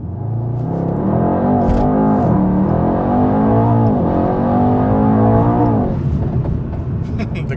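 A Mercedes E63 AMG launching hard, its engine roaring loud and close with rising revs through several gear changes before backing off, with faint talk underneath.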